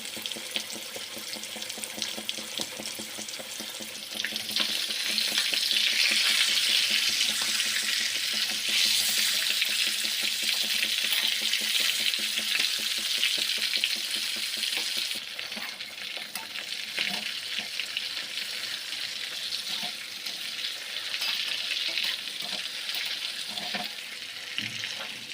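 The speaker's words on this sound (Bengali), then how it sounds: "তেল গরম হয়ে গেছে, এবারে গোটা মাংসটাকে ভালো করে এপিট ওপিট করে ভেজে" A whole chicken frying on low heat in a pan of hot oil, giving a steady, dense sizzle that swells louder for a stretch and then settles again, close and continuous with no one talking.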